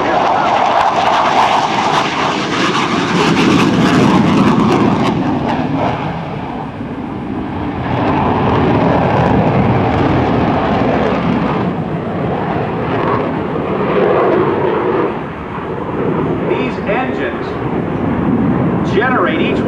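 An F-15 Eagle fighter jet with twin Pratt & Whitney F-100 turbofans roars past at an air show, a loud continuous rumbling jet roar swelling and fading over about twenty seconds, with a voice speaking under it.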